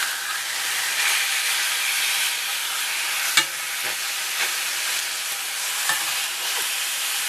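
Pork chops frying in a pan with a splash of root beer give a steady close sizzle, with several sharp spatters and clinks as they are turned.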